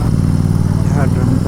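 A Royal Enfield Continental GT650 motorcycle on the move gives a steady, deep engine rumble that runs through the whole moment, with a voice talking over it.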